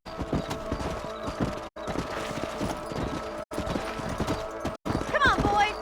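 Horse hooves clip-clop steadily across a ranch in Red Dead Redemption after riders mount up, a close, even gait broken by brief silences, with a short whinny near the end.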